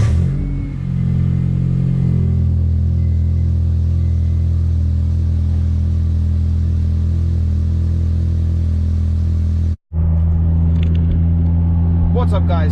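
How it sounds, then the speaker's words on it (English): A Honda car drives out, its engine hum steady and loud from inside the cabin with a brief dropout near the end, while a person talks over it. "I got the Honda here ready, so let's head out."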